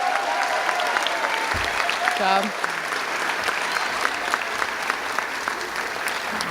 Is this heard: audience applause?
yes